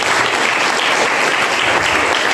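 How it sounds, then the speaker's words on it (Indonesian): A church congregation of young people at a Christmas sermon claps loudly and continuously, a dense wash of applause that stays even from start to finish. "Kasih tepuk tangan untuk Yesus"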